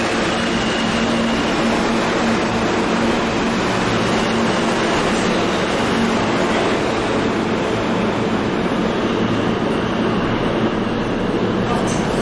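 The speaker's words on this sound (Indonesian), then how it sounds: "menaiki kereta bawah tanah atau subway" Steady roar of a New York subway train in motion, broadband rumble and rattle filling the whole stretch without pause, loud and close from inside the car.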